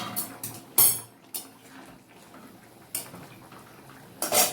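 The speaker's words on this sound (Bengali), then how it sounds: "মিনিট 5 পরে আমি এই ঢাকনাটা খুললাম।" A lid lifts off a pot of simmering shukto, a Bengali vegetable dish, with water brought to a boil. Several sharp metallic clanks and clinks stand out over quiet kitchen background.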